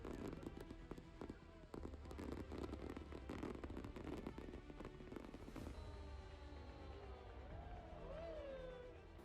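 Fireworks burst after the opening ceremony at the Stone Circle at Glastonbury Festival, a dense barrage of booms and crackles at night with crowd noise underneath, then whistling rockets rising near the end.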